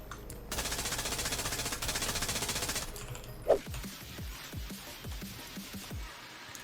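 Rapid automatic gunfire in a shooter video game, a dense loud burst for a few seconds followed by a slower string of separate sharp shots.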